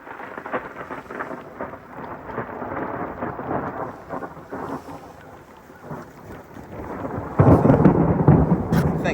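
Thunder rolling during a lightning storm on Sam Rayburn lake in Texas at a bass fishing tournament, a long rumbling peal with steady rain under it, swelling to a loud, close crack near the end.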